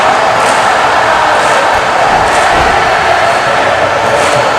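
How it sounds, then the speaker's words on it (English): A large wrestling arena crowd roars loudly and continuously, a dense wall of voices with faint rhythmic swells of "na-na-na-na, hey-hey-hey, goodbye" chanting. "Listen to this crowd here. They got na-na-na-na, that hey-hey-hey"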